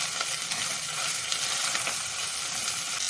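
Chicken liver masala with green chilli and turmeric sizzles in hot oil in a pan, a dense continuous hiss with faint scraping stirs running throughout.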